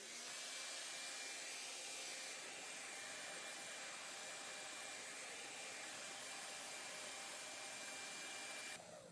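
A hair dryer blows continuously and loudly at close range to dry spray paint applied through a stencil, a steady whooshing hum that holds unchanged for about nine seconds before cutting off.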